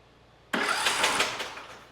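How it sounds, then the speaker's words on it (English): A Briggs & Stratton lawn tractor engine with a suspected bad cam cranks over abruptly after a quiet start, a loud whirring churn that holds steady and then slowly fades. "I'm going to go ahead and crank it over just to make sure it spins"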